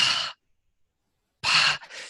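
A person imitates sharp gasping breaths as if straining at work, two short breathy bursts separated by silence, close and fairly loud.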